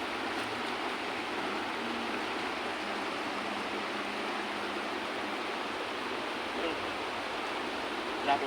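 Strong river current rushes in a steady, broadband roar of flowing water beside anglers fishing for tilapia, continuous and close throughout.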